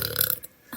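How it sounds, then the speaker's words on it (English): A girl burps once, a short rough guttural croak up close, fading out into quiet. "Why do I keep burping?"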